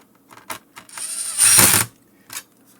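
Clutch screwdriver driving screws into the motherboard of a Clear-Com HelixNet HMS-4X intercom, with a few short clicks followed by a close, loud whirring burst of about half a second and a final click.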